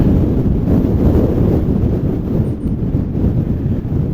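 Strong wind buffets the microphone on a Lake District fell summit, a steady loud low roar with gusty surges throughout and no other sound.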